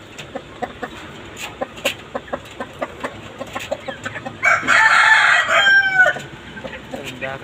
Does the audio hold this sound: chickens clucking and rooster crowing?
yes